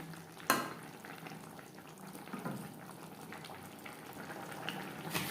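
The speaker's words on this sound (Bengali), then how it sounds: "গ্রেভির সাথে মাছ আরও চার পাঁচ মিনিট রান্না করব" Pakal fish curry with brinjal simmering in its gravy in a pan, a steady low bubbling under a constant hiss, with a sharper clatter near the start and another toward the end.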